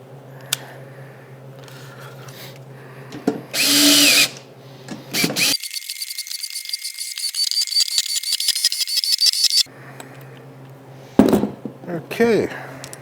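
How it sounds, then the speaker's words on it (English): A power tool runs in short bursts and one long whirring run while snugging up bolts during alternator and gas tank work on a vehicle. People talk between the bursts. "Power tools."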